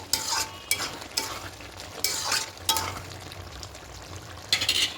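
A spoon stirs potato and cauliflower roast with a little ghee in a pan, giving repeated scraping strokes roughly every half second over a low sizzle, close and fairly quiet with no talking.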